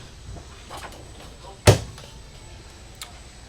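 A soft-close drawer in a 2026 Brinkley Model Z 3420 RV shuts with a single muffled thump after a brief slide, close by, in a quiet interior with faint handling noises around it.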